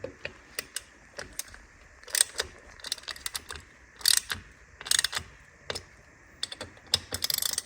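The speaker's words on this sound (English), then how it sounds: "So I'm going to swap over to a quarter drive ratchet now." A quarter-drive ratchet tightens the Akrapovic titanium high-rise exhaust bolts on a BMW R NineT Racer motorcycle, giving short bursts of close, crisp clicking with pauses between, and no voice.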